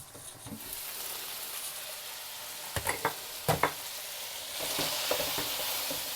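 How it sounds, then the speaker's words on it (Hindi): Chicken frying in a pan, a steady moderate sizzle broken by a few sharp spatula knocks and scrapes partway through, then the sizzle swells louder toward the end. "अभी थोड़ी देर 4-5 मिनट तक और पकाएंगे ताकि चिकन हमारा अच्छी तरह पक जाए"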